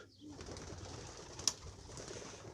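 Racing pigeons coo softly in a loft, a faint low murmur of flock sounds with one brief sharper chirp partway through.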